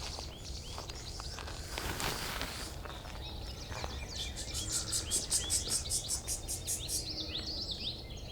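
A goldfinch giving a run of quick, buzzy chirps that repeat in a rapid series, moderately close, over outdoor ambience with rustling and footsteps on a bird walk.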